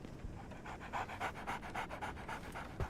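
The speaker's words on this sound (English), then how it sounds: "So, Barnes has a dog now." A dog pants steadily in the Sherlock Holmes: The Awakened video game, a quick rhythmic run of breathy huffs, close and fairly soft, with nothing else over it.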